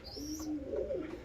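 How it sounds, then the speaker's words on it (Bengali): A pair of pigeons in a loft gives a soft, low rolling coo, faint and close, with a brief higher chirp at the start. "এই যে পায়রার জোড়াটা"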